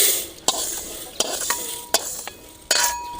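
Urad dal dry-roasting in a pan, stirred with a spatula: a soft, steady dry rustle broken by about six sharp scraping strokes spread across the clip, close and fairly loud, with no voices.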